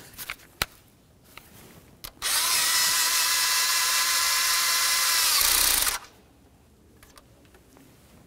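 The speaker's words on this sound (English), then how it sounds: "Start in that mounting bolt, bottom it out, and then torque that to 89 inch pounds." A power driver runs steadily for about four seconds, tightening an ignition coil mounting bolt on a 2013-2015 Chevrolet Malibu 2.5L four-cylinder engine, with quiet handling clicks before and after.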